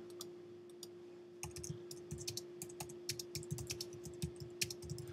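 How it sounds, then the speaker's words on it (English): Steady, rapid clicking of fingers typing on a computer keyboard while entering details into email quoting software, starting after a quiet second and continuing in irregular bursts, close and fairly soft. "I could type it here. Also, I can type that over here."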